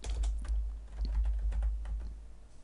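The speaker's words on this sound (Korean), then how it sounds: "날짜 별 현황이라고 입력하시고 확인 버튼 눌러주시면 되겠습니다" Steady typing on a computer keyboard, a close run of quick key clicks with a short pause partway through, heard alone.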